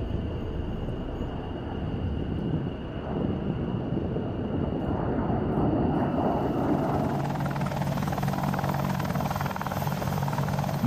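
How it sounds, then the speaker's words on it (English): A military helicopter drones steadily and loudly throughout, its rotor and engine noise continuous with a broad rumbling wash that thickens in the second half. "The United States military has the most versatile helicopters in the rotary wing arsenal"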